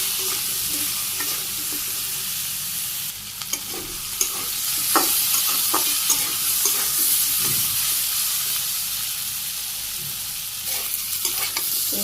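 Vegetables sautéing in a pan with salt, turmeric, chilli powder and green chillies, a steady loud sizzle with repeated scraping stirs throughout, close and continuous with no talking.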